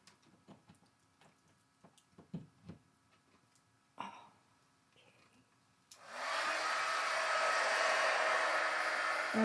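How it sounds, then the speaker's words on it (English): A heat gun used for heat embossing on a stamped card switches on after some light tapping and handling, then blows with a loud, steady, breathy roar until the end. "let's get my heat gun"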